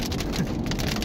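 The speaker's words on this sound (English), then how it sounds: "Oh boy, it's really starting to rain." Rain comes down hard outdoors, a constant close patter of drops with a soft hiss, no voices present.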